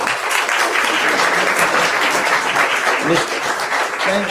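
Sustained applause and clapping from a crowd at a city board of aldermen meeting, dense and steady throughout with a few voices mixed in.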